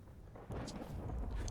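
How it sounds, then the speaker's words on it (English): A deep rolling thunder rumble in the survival game Vintage Story, faint at first, then swelling into a low sustained roar with no talking. "That thunder is not pleasant one bit."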